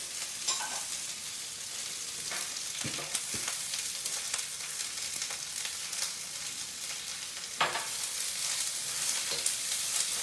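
Beans, carrots and cabbage stir-fry in hot oil with a steady, dense sizzle, punctuated by a few scraping stirs and clatters from the utensil, without any voice.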